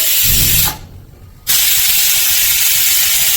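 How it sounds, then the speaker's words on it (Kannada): Pressure cooker on high flame cooking tomato rice, releasing a loud, close rush of hissing steam that breaks off briefly for under a second before resuming strongly. "ಗ್ಯಾಸನ್ನು ಹೈ ಫ್ಲೇಮಲ್ಲಿ ಇಟ್ಬಿಟ್ಟು ಎರಡು ವಿಸಿಲನ್ನು ಹಾಕೋಬೇಕು"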